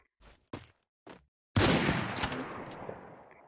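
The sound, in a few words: sniper rifle shots in a video game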